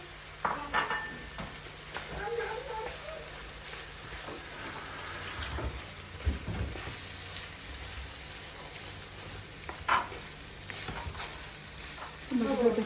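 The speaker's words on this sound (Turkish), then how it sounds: "Kıymamız gayet güzel kavruldu." Minced meat sizzles steadily in a pan at a low level, with occasional scrapes and clinks of a utensil stirring, and no talking.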